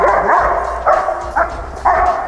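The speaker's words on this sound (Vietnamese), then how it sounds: "Thứ nhất, ngăn cản chó tấn công." A dog barks in several loud, close bursts, a short yelp followed by three more barks spaced about half a second apart, as it attacks.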